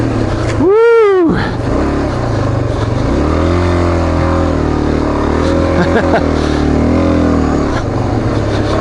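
Suzuki dual sport motorcycle rides on a dirt trail, its engine droning and rising and falling in pitch with throttle changes, with a sharp rev sweep early on; loud and close throughout.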